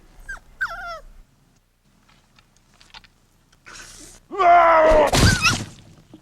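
A puppy in a God of War parody lets out high whimpers and yips, then a louder whining cry over a burst of crashing noise near the end.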